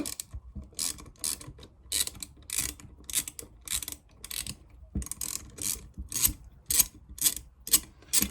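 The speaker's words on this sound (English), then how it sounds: "we've got these 3 1/4 inch bolts up here. Let's go ahead and loosen those." Bolts being loosened with a ratchet on a marine alternator, heard as rapid ratcheting clicks in repeated bursts. They are close and moderately loud, with no talking.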